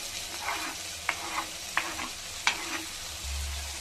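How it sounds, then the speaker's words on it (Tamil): Cabbage, carrot and potato frying in a pan, a soft sizzle broken by several distinct spoon scrapes and taps against the pan at an uneven pace. "நல்லா ஃப்ரை பண்ணிக்கலாம்."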